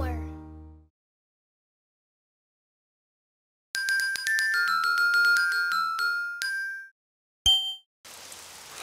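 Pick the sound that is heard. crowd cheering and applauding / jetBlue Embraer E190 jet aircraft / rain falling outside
rain falling outside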